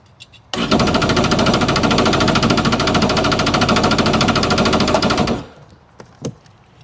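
A 2026 Sea-Doo Spark Trixx jet ski engine cranks steadily for about five seconds with throttle held wide open, a fast, rhythmic whirring chug, never catching, then stops, followed by a few faint clicks.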